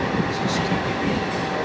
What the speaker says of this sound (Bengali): এটা আমরা এখন উদ্বোধনী স্পেশাল ট্রেনে রয়েছি